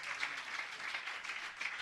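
Steady applause from a crowd at a religious discourse gathering in Rohtas, Bihar, dense clapping filling the whole moment without a break.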